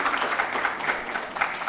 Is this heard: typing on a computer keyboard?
no